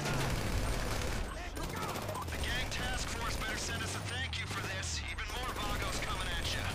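Dense gunfire crackles during a prison break heist in GTA V, overlapping rapid shots loud and continuous, with someone speaking over it.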